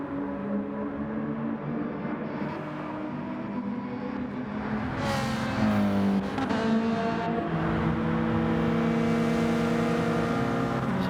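Race cars at Red Bull Ring in Gran Turismo 7, a loud sustained engine drone with rising and falling revs as cars accelerate and shift, other cars close by throughout.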